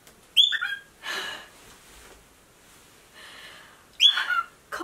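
A pet bird indoors gives close, sharp chirps and short whistled calls in two bursts at the start and end, with soft breathy rustling between them.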